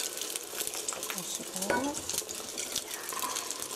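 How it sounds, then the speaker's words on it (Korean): Beaten eggs hit hot oil in a frying pan and sizzle steadily, with utensils scraping and stirring in the pan and a short spoken remark over the crackle. "치익 소리가 나야 돼요."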